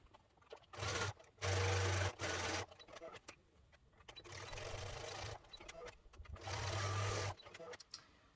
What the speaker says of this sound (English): when I sew this bottom seam, I'm going to be sewing the two sides, leaving the middle open